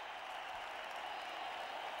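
A stadium crowd at a 2004 India vs Australia Test match in Mumbai roars and applauds in a steady, dense wash of noise that holds throughout without easing.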